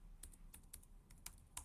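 Computer keyboard being typed on, a quiet, close series of crisp key clicks in an irregular rhythm with short pauses between bursts.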